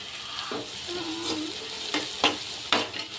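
Onions fry in oil in a pan with a soft, continuous sizzle, broken now and then by louder scraping stirs of a spoon, fairly quiet and close with no speech.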